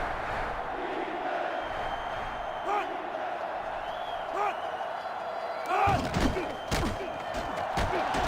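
Steady stadium crowd roar from a sellout college football game in NCAA Football 2005 on GameCube, Michigan against Florida, a continuous loud wash with swells and thumps near the end, no voices on top.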